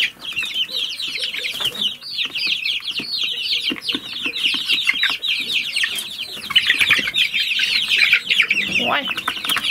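Chickens cluck and squawk nonstop in a crowded coop where the birds are packed on top of each other, a busy, close chorus with wing flaps and faint voices mixed in.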